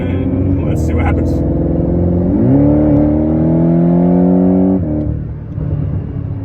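A Porsche 718 GTS engine revs on a dyno, a loud close roar climbing steadily in pitch over a couple of seconds before cutting off abruptly, with a low rumble continuing afterward.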